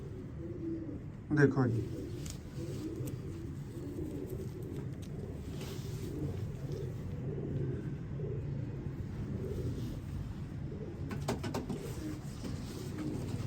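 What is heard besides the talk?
pigeons cooing, breeder female pigeon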